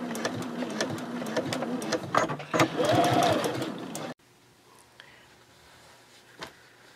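A sewing machine runs close and steady as it stitches a zip pouch, a rapid whirring hum that stops abruptly partway, followed by near-quiet with a couple of faint handling clicks.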